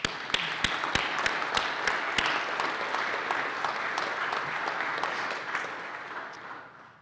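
Audience applause after a graduation-style address at an institute, a crowd of many hands clapping steadily with a few sharp individual claps standing out, fading gradually toward the end.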